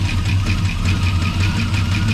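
A 1984 Chevy pickup, revived after sitting dead for two years, idles loud and close with a steady, slightly knocking rumble and constant vibration.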